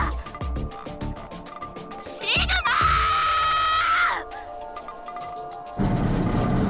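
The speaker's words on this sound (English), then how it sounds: "Now you're making a girl scream?" A girl screams loudly in the visual novel Virtue's Last Reward, a sustained shrill cry of about a second and a half amid game sound effects and music.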